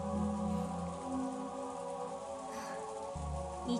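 Steady rain from the visual novel Umineko When They Cry hisses evenly throughout, mixed with a sustained musical background at moderate loudness.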